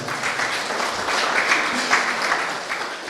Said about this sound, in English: A round of applause for him one more time.